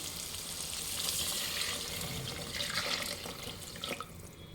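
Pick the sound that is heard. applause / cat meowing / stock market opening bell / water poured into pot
water poured into pot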